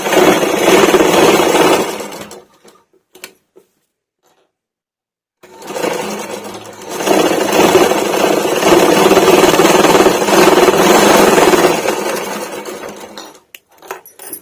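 Sewing machine stitching the folded edge of a baby cloth: a dense, loud mechanical whir in two bursts, the first about two seconds and the second longer, separated by a pause of near silence and ending with short stop-start runs.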